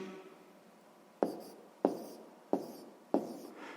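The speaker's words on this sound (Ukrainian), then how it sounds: "Записуємо відповідь" Pen strokes on paper while the answer to a sixth-grade math exercise is written down: four sharp, close scratches spaced about half a second apart, each fading quickly, with no voice.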